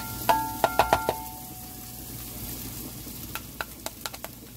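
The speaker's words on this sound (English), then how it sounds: "halfway through my caramelization process, I'm adding in my garlic." Garlic is added to a caramelizing base for a vermicelli miso soup, with a steady sizzle of frying under several sharp utensil taps and scraping stirs against the pot, close and clear.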